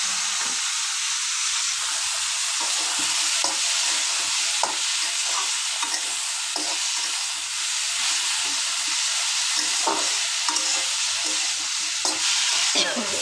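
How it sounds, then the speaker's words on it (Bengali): Lunch cooking in a pan, with a steady loud sizzle of frying and repeated scraping strokes of stirring throughout, no voices. "এই তো আমি দুপুরের রান্না শুরু করলাম।"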